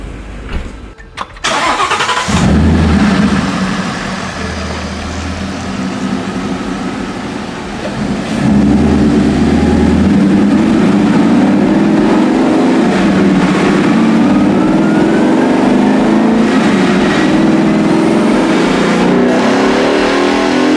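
A 2016 Ford Mustang GT with a Coyote V8 running a 100-shot nitrous tune roars on a chassis dyno, idling briefly, then pulling in a long loud steady sweep that rises in pitch.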